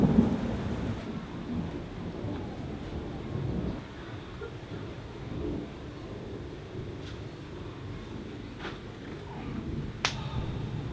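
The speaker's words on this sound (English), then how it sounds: "It's a summer storm, will end soon." A summer thunderstorm in Italy: steady rain hisses and patters on surfaces nearby while low thunder rumbles, with a few sharp close drop impacts standing out toward the end.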